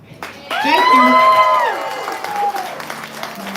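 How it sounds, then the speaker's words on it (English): Open mic night audience in Houston erupting into applause and cheering with whoops, loud and sustained at first, then tapering off as a voice comes in. "keep clapping, keep clapping"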